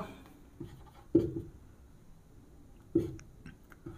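A pen writing out a class 10 maths trigonometry solution on paper: a few scratchy strokes and taps spread across the stretch, close and soft, with long quiet gaps and no speech.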